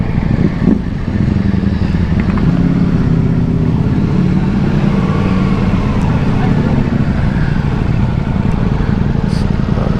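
A Ducati Multistrada V4S Pikes Peak adventure motorcycle running close and loud, its engine droning steadily with quick rises in revs under heavy wind rush during a ride.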